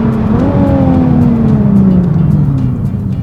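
A powerful paddle-shift performance car engine pulls hard under acceleration, a loud, steady rising growl that climbs in pitch through the gear and holds close and continuous with no talking.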